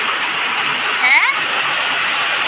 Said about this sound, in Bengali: বাইরে বৃষ্টি পড়ছে জোরে।